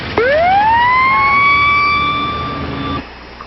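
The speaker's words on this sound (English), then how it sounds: "Bravo K1, sound your siren." A loud, close siren winds up from low to a sustained high wail, holds for a few seconds, then cuts off abruptly.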